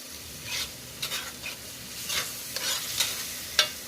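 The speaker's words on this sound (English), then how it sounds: "I'm going to give it a stir." A spoon scrapes and stirs keto chili in a pot over medium-high heat, soft sizzling underneath and a handful of brief scraping strokes, quiet and close with no talk.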